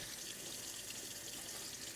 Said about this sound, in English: you want to let a little bit of water run